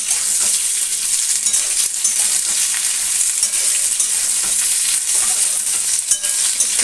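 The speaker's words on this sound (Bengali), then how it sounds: "আমগুলো এখন ভালো করে ভাজবো কিছুক্ষণ ধরে।" Mango pieces fry and sizzle in a pan while pickle is being made, a steady bright hiss broken by the clatter of stirring that continues without talk.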